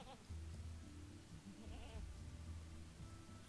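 A goat bleats in a video game while calming a nervous goat, a wavering animal cry rising briefly mid-clip over steady low game music and ambience.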